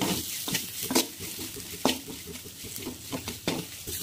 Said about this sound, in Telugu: పసుపు, ఉప్పు, ధనియాల పొడి, కారం, ఇవన్నీ బాగా ఫ్రై చేసుకోవాలండి.